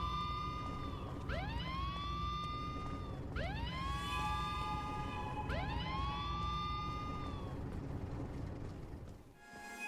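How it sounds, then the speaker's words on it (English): Wailing sirens in Silent Hill Downpour rise and fall in three repeated sweeping cycles, loud and steady over a dense rumbling background, cutting off near the end. "I hope you like sirens because you're going to be hearing them for this whole straightaway"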